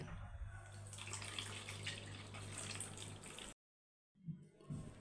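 Water is poured off soaked grains in a continuous rushing stream for a few seconds. It stops abruptly, then a couple of soft clunks of the container follow.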